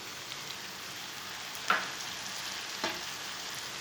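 Okra frying in a pan with tomatoes and green chilies, a faint steady sizzle with a couple of soft stirring clinks.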